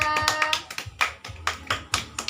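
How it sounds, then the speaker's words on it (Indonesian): A fourth-grade elementary classroom claps for classmates, a short burst of scattered, uneven hand claps close by, fairly quiet, with no talking over it. "beri tepuk tangan untuk temannya"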